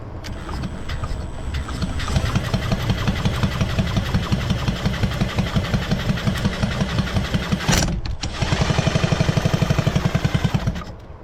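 A Sachs 505/1D moped engine with a 70cc Athena kit starts and runs, a rapid, buzzing two-stroke putter up close that cuts out briefly near the end before catching again.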